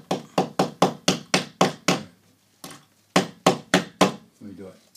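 A hammer strikes wood near a wall stud in a quick, regular burst of about nine close blows. After a short pause a second run of five or six hits follows.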